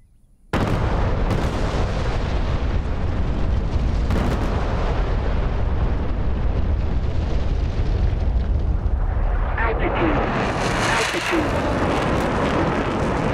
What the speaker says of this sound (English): I heard the explosions hit.